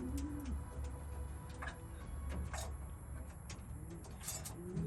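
Racing pigeons back in the loft after a race, soft low cooing rising and falling nearby, with faint ticks and light clatter of the birds moving about.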